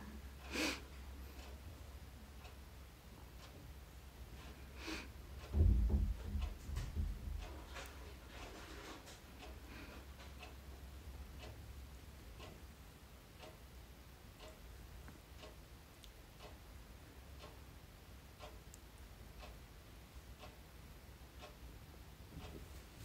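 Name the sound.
clock ticking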